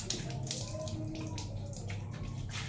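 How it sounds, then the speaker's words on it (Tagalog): Water running and spattering from a newly installed tap in a bathroom under tiling work, a continuous trickling wash with faint low background noise. "O, ba't natulo ang tubig?"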